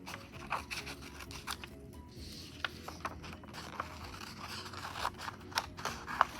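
Scissors cutting along a line in painted paper tree trunks, a quiet series of close, crisp snips at irregular intervals over light paper rustling.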